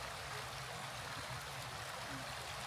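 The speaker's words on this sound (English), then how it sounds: "There's the pretty river." Steady rushing and trickling of flowing river water in Cades Cove, Great Smoky Mountains, broadband and continuous, fairly soft with no voices over it.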